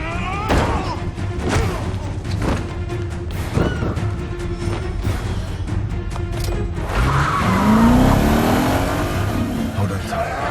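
A car brakes hard and its tires skid loudly, a rising screech cutting through engine noise and scattered sharp impacts, with tense shouting voices mixed in during an action movie chase.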